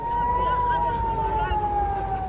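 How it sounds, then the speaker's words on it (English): A single steady air raid siren wails at Tel Aviv airport during rocket fire, its tone held and slowly falling in pitch, over a low rumbling background. "The sirens have gone off."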